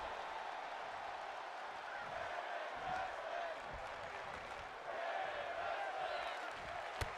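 A virtual arena crowd in a WWE 2K22 wrestling match keeps up a steady roar of cheering and scattered applause, with commentary voices talking over it.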